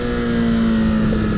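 A Honda CBR 1000 motorcycle engine holds a steady, loud drone in first gear at around 5,000 RPM, with wind rush over the microphone while riding at speed.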